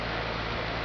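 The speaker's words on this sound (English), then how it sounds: "There's the fan motors going." The condenser fan motors of a Goodman 4-ton 13 SEER heat pump roar in a loud, steady rush of air and motor noise close up, with no pause through the short stretch.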